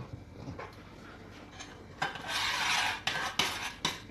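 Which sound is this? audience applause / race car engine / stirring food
stirring food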